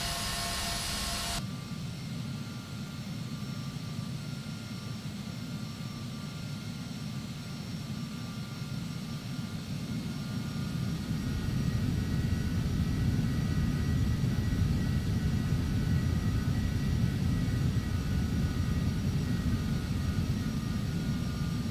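Airliner engines in Flight Simulator X during pushback, a steady low turbine drone and whine that swells louder partway through, continuous and without talk.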